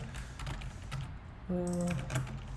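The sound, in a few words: typing on a computer keyboard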